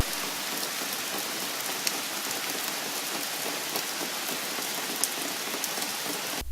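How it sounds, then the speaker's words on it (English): Steady rain falls on a surface, a dense, even hiss of raindrops with occasional sharper individual drops, constant and moderately loud throughout with no voices. "Here's a clip of rain that has the actual sound of raindrops."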